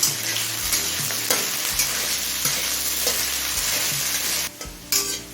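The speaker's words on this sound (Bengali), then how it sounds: "এবার আলুটা ভেজে নেবো এখানে আমি একটা বড় সাইজের আলু ছোটো ছোটো টুকরো করে কেটে নিয়েছি" Small pieces of a large potato fry in hot mustard oil over high flame, a steady loud sizzle with occasional stirring scrapes, briefly dipping near the end before resuming.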